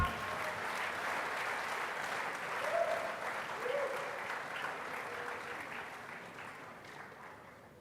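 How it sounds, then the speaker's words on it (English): Applause from the audience at a KNUST agriculture anniversary ceremony greets Honorable Yao Frimpong Ado, deputy agriculture minister and MP, as soft, steady clapping that swells briefly and then gradually fades. "Shall we please applaud Honorable Yao Frimpong Ado?"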